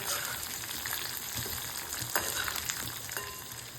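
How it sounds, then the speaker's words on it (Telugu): Small peeled onions fry in a pan, a steady, fairly soft sizzle with occasional light stirring scrapes throughout, no talk. "ఇప్పుడు మనం తొక్క తీసి పెట్టుకున్న ఈ చిన్న ఉల్లిపాయలు వేసి వేయించుకోవాలి"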